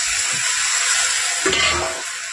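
Fresh spinach tossed into a pan of sizzling fried spice masala for a Bengali fish-head chorchori, a steady close frying hiss with a brief rustle and stir as the leaves go in.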